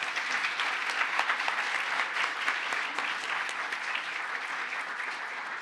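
Applause at a mathematics lecture by Brady Haran, a steady, moderately loud patter of many hands clapping that fills the room evenly from start to finish, with no speech.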